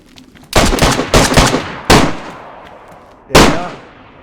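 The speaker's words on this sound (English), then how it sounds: "Oh goodness, lots of gunfire." Loud bursts of gunfire in the video game DayZ: a rapid volley, a couple of quick shots, then a single sharp blast, each with a fading echo.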